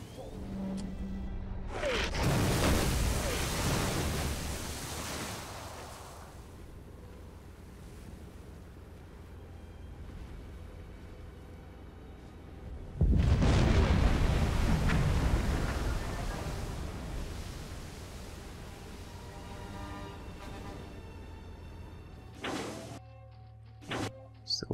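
An enemy ship fires on a submarine in the video game Silent Hunter 4, with two long, heavy rumbling blasts like explosions and spray against constant sea and wind ambience, plus a few sharp clicks near the end.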